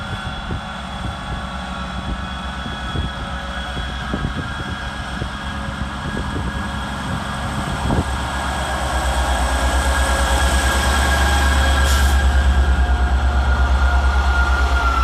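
HST power car 43175, top and tail with 43176, approaching Montrose station, a deep engine rumble building steadily and growing louder over a steady background hum, with faint clicks early on.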